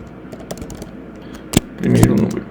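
Keys clatter on a US English Mac keyboard in short, scattered clicks that are fairly close and light. A louder cluster of keystrokes and a thump come near the end.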